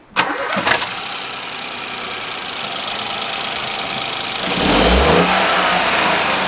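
A 1.0 litre EcoBoost Ford engine fitted with an induction kit cranks and catches, then settles into a loud, rough idle that swells louder near the end, with a deep induction roar.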